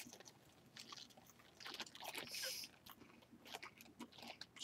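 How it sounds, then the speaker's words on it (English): Crunchy bites into a rice cake dipped in hazelnut cocoa cream, heard close up as several crisp crunches and chewing sounds in irregular bursts, with no talking. "I just dip the rice cake in and just like take a huge chunk"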